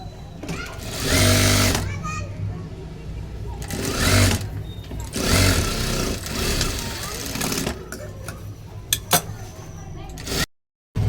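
A sewing machine stitches a four-tuck blouse in several loud, close bursts of whirring separated by pauses, with someone talking between and under the runs.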